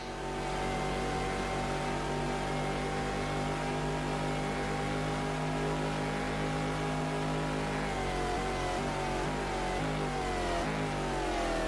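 Race car in a Le Mans 24 Hours video game, engine screaming at high revs, then downshifting with sharp over-revving pitch jumps near the end, loud and continuous without talk.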